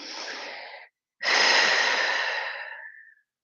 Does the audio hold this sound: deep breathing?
yes